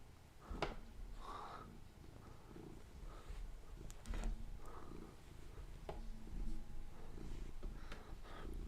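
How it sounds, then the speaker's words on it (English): A pet cat purrs softly up close, a faint rhythmic rumble with breathy pulses and small snorts over several seconds, no talking. "This is my cat."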